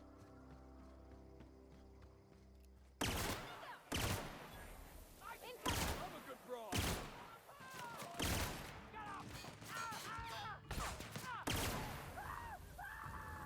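Pistol gunfire in the video game The Outer Worlds: about eight loud, sharp shots at irregular intervals over background game music, with brief vocal sounds between them.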